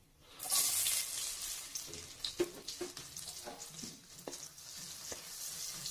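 Onions and cumin frying in oil in a kadhai while being stirred, giving a steady sizzle broken by scraping and clinking of the spoon against the pan, close and with no voices.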